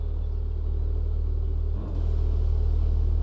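A heavy military vehicle engine in Arma drones steadily as it drives along a road, a deep, constant rumble heard close and loud, with one brief dip in the middle before the engine note picks back up.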